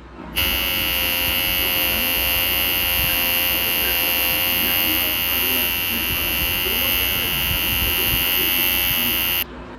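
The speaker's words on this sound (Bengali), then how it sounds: "শুধু আইব্রুটা তুলবো, এই যে মেশিন নিয়ে বসে আছি, তুলবো।" Electric trimmer used on eyebrows, buzzing loudly and steadily at close range for about nine seconds, starting and stopping abruptly, with no talking.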